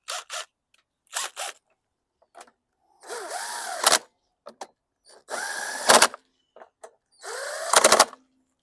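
A DeWalt power drill fitted with a 10 mm socket works on a 2016 Toro Recycler lawn mower, giving short bursts of whirring spin-up and ratcheting, close and loud, separated by quiet gaps.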